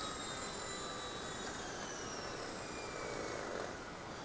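A hovering RC helicopter descends onto a landing pad as the throttle is gradually lowered, giving a steady, continuous whine and rotor hum that stays level and unbroken throughout, with no talking.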